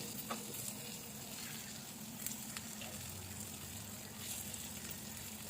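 Green chillies and onions frying in hot oil in a pan for chicken kola balls, a steady close sizzle with faint crackles and occasional stirring, no talking.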